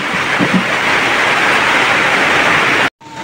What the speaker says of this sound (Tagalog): ang lakas naman ng ulan at walang tigil ng kakaulan